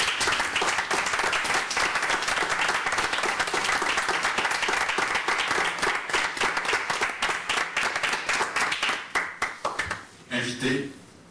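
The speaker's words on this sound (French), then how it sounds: "Applaudissez." Sustained audience applause from a crowd at an event, dense steady clapping for about nine seconds before thinning into scattered claps and fading, with a voice briefly audible near the end.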